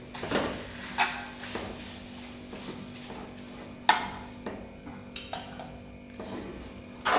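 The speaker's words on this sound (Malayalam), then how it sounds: "നമുക്കത് ഇളക്കാം." Food being stirred in a pan while cooking flour-based noodles, with scraping and clinking at irregular intervals and a faint sizzle underneath, close and moderately quiet.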